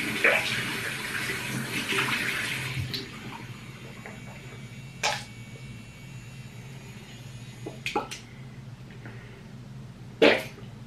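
Shower water runs in a home bathroom as a soft, steady spray beneath brief louder splashes and knocks, and a voice is heard now and then.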